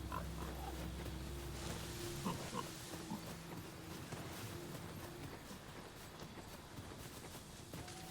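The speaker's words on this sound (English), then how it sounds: "I hear pigs oinking." Pigs oinking in the video game Dragon's Dogma II, a few scattered grunts over a steady ambient bed with faint hoof-like clops, no talk.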